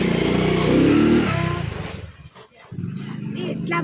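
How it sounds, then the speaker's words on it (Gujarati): A motorcycle passes close by, its engine loud and droning at first, then fading away within about two seconds into quieter background noise. "બાઇક જવા દઈએ પછી આગળ વધીએ"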